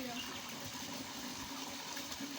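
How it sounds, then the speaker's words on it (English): Water pours from a cut plastic jerrycan at a construction site, running in a steady close splashing gush, and a voice can be heard talking during it. "I'm pouring some water over here"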